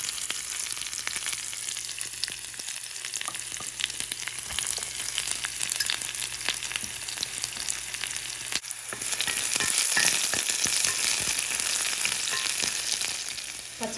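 Shallots fry in hot oil alongside mustard seeds and curry leaves for a green mango curry, giving a steady, dense sizzle that swells louder in the second half, with no talking.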